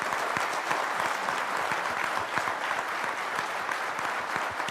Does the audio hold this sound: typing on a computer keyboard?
no